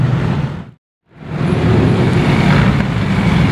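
Porsche 964 Turbo driving past, a loud close engine roar that cuts out briefly and then returns as a steady heavy rumble with traffic noise around it.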